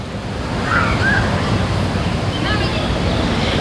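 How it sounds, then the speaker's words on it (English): Steady ocean surf rolling and washing at a Puerto Vallarta bay hotel, with broadband wind rumble and a few faint distant voices underneath. "this is what you hear at night is the waves"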